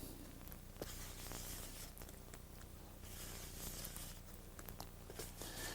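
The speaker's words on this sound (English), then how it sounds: "Get my squeegee out. This is the best thing to use when you're mixing this." A squeegee mixes and folds plastic body filler, making close, continuous soft scraping and squishing strokes with small clicks, and no voices.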